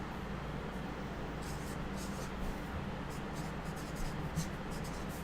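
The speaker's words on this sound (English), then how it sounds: "I'm going to go ahead and write that in" Pen or marker writing on paper during a maths explanation of deceleration, a soft continuous scratching with brief strokes over a steady background hiss, close and fairly quiet with no talking.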